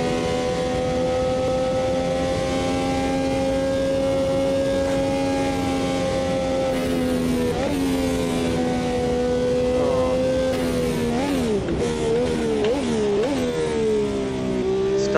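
Brabham BT46B fan car racing in Automobilista 2, its engine droning steadily at high revs with a six-speed gearbox, then rising and falling through quick gear changes near the end, loud and continuous with no talking.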